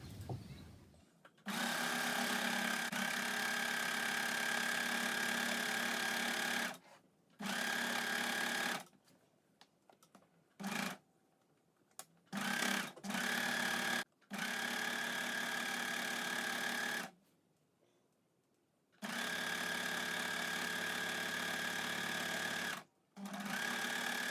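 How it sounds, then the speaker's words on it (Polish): A sewing machine stitches a coat in long, steady runs broken by short pauses, the loud motor whir starting and stopping several times with no talking. "O, tak sobie zszyję i teraz przez całość szyję."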